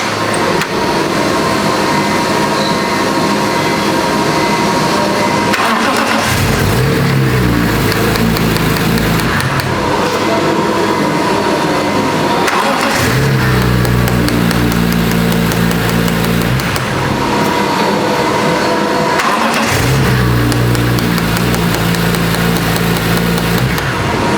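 BMW E46 M3 engine cranking and firing for its first start after VANOS maintenance, loud close idling broken by repeated cut-outs and restarts, with a steady mechanical drone throughout.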